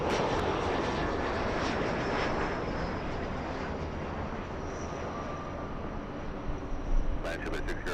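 An airplane flies close by near LAX airport, its broad, steady engine roar filling the whole stretch before a few sharp clicks near the end.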